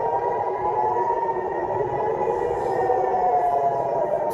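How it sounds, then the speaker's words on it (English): A long, steady air raid siren wail in Israel during an Iranian missile attack sounds continuously at a distance, slightly wavering in pitch, over a constant low outdoor rumble. "Sirens went off"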